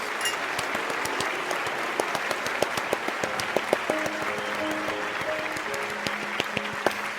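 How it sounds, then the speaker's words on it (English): Thunderous applause from an auditorium audience in the video game Love and Deepspace, a dense sustained roar of many hands clapping with sharp individual claps poking through and soft game music tones underneath. "I'm rewarded with thunderous applause"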